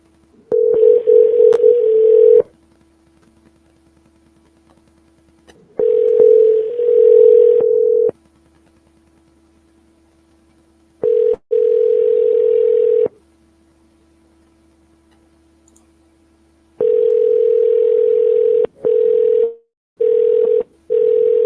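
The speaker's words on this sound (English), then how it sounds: "Becky don't like to answer the phone" Outgoing call on a telephone line, ringback tone sounding in steady repeated bursts separated by quiet gaps, clear and close with no talking.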